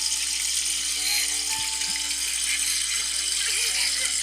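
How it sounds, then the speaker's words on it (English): Water runs steadily from a fountain while hands are vigorously scrubbed under it, a continuous close splashing hiss from a visual novel scene, with faint tonal sounds mixed in and no speech. "seems to be vigorously washing her hands in a nearby water fountain"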